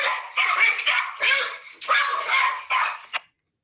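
A pack of hunting dogs bays and barks in a dramatized chase, several overlapping yelps and howls in a continuous run that cuts off abruptly.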